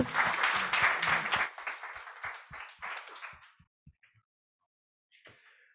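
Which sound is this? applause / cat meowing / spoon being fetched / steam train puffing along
applause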